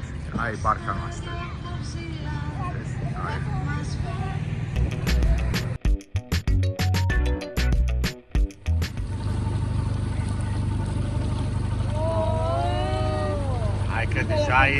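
A motorboat engine runs steadily on a boat trip in Greece, a constant droning rumble under frequent nearby talk and a brief burst of clattering bangs midway.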